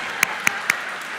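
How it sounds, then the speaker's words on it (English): At an art and design college commencement, a few sharp, spaced claps ring out close by, three distinct hand claps over about half a second against a quiet hall. "Round of applause"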